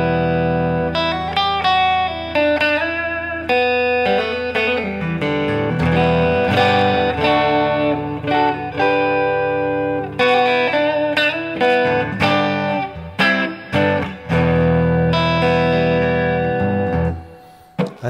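A Harley Benton HB35+ electric guitar on its neck pickup in humbucker mode plays a melodic run of picked notes and chords through reverb, clear and alone, with the final notes ringing off.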